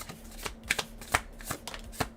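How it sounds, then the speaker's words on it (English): Tarot cards being shuffled by hand, a run of crisp riffling and slapping bursts in an irregular rhythm, close and fairly quiet with no talking. "I'm gonna shuffle."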